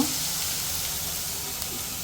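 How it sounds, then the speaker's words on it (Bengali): Okra and leafy greens fry side by side in one pan, giving a steady soft sizzle with light crackle that stays even and close throughout. "এই পাশে শাক গুলো দিয়ে দেওয়া হয়েছে এই পাশে ভেন্ডি ভাজি দিয়ে নিচ্ছে"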